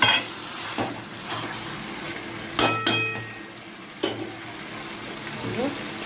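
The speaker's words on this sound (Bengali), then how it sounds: "এখানে এই যে চিকেন কষা হচ্ছে।" Chicken kosha stir-fries in a home kitchen pan, with faint sizzling under a few sharp clinks and scrapes of a spatula against metal at irregular intervals, with background speech.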